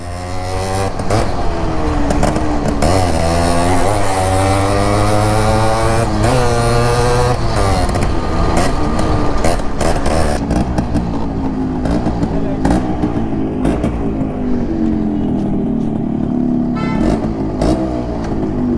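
A Yamaha RX motorcycle engine runs loud and close, revving up and down with a rising and falling pitch over a steady throbbing idle, while people talk nearby.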